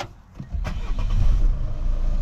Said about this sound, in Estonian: Nüüdseks paneme käima. Vaatame, kuulame mootorit.